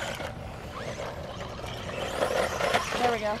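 An HBX 16890 brushless RC truck climbs a small dry dirt hill outdoors, its electric motor whining and rising sharply in pitch in short bursts toward the end over rough, rumbling background noise.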